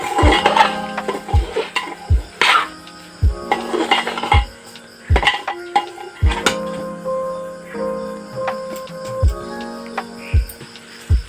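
Chickpea pulao with fine jeera rice being mixed in a cooking pot: a spoon scrapes and clinks against the pot in a steady series of sharp knocks, near and clear, with no talking.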